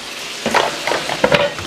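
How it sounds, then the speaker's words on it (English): Chicken pieces sizzling in a hot frying pan while being scraped and moved, bursts of crackling fry noise with scraping clatter over a short stretch. "Hear that sizzling in that pan."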